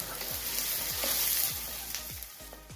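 Onions and garlic fry in oil in a pan with a close, continuous sizzle, punctuated by regular soft scrapes of a spoon stirring.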